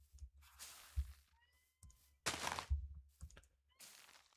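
A pet cat meowing in a room during a Minecraft session, several short separate calls close by with quiet thumps between them.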